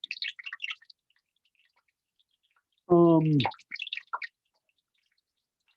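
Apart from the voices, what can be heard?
hot frying oil popping from water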